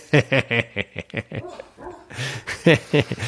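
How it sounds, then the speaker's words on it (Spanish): A small dog barks in its sleep, giving rapid bursts of muffled yips and short whimpering barks close by, in quick irregular clusters. "entonces ladra en sueños"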